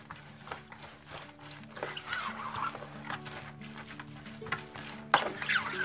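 A spoon stirs lemon juice from four lemons into a homemade zucchini preserve, giving soft scraping and wet swishing strokes with an occasional sharper clink near the end.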